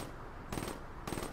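Two short rapid bursts of automatic gunfire from a Call of Duty search-and-destroy match, fairly close and sharp, separated by a brief pause.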